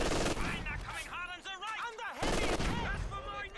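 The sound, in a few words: Thompson submachine gun firing in Company of Heroes 2 video game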